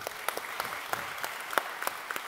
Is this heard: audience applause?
yes